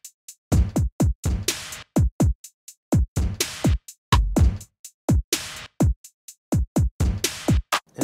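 Two layered lo-fi drum kits built in Logic on iPad with Lo-Fly Dirt play a steady, punchy beat of close kicks, snares and hi-hat hits in a regular groove, with no voices.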